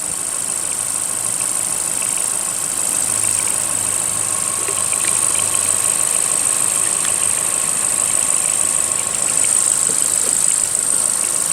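A 2021 Ford Transit Connect engine idling steadily, a continuous close mechanical hum with a high-pitched whine sustained throughout and no talking.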